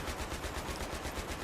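Full-auto gunfire in a Battlefield video game: rapid, evenly spaced bursts of shots repeating steadily throughout, fairly close and moderately loud with no talk over it.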